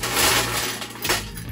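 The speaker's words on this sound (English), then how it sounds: "drop some ice in our mixing glass." Ice dropped into a cocktail mixing glass gives a dense rattling clatter of cubes, loud and close, with a second burst of clinks midway.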